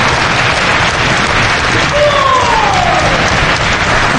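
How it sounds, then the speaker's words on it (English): Wrestling fans at a live EVOLVE pro wrestling match in Rahway roar and clap in a loud, continuous wash of crowd noise, with a brief whistle-like tone rising over the din partway through. "And you hear the fans here, Lenny."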